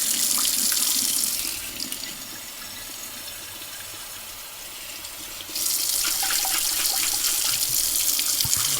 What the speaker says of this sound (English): I want to keep doing this until the water that comes out is clear and there's no sediment or any bits of heat.